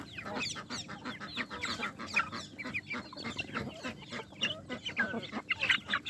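Hen clucking among her chicks, busy overlapping clucks and peeping in quick irregular bursts, close by, with faint background activity.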